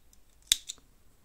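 Scissors trimming the yarn ends on a crocheted flower-motif beach bag: one sharp, close snip followed by a fainter second click, in an otherwise quiet room.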